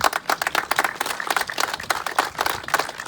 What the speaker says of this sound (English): So please give Sam a round of applause